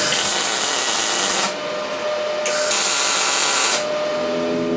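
Steel profile pipe for a shelf frame is tack-welded in two loud, hissing, crackling bursts separated by a short quieter gap.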